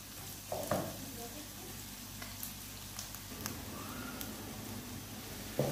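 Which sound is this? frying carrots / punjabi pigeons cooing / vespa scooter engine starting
frying carrots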